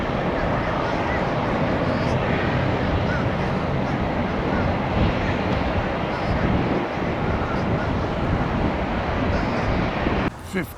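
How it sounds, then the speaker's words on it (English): Strong wind gusting outdoors near the water at Cypress Point Park, a loud, steady broadband roar buffeting the microphone for several seconds before it briefly drops at the end. "the wind's starting to kick up"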